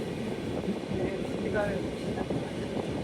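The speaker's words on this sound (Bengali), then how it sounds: "আমাদের ট্রেনটি এখন পদ্মবিলা জংশন রেল স্টেশন সুপাস করে যাচ্ছে" A train rolls through Padmabila junction railway station on a Benapole-to-Dhaka run, heard from aboard as a continuous low rumble with wind, a brief faint squeal partway through, and no clear talk.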